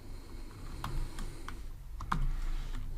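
Computer keyboard clacking as code is typed, a quick run of separate key presses with a few sharper taps, close and fairly quiet, with no talking.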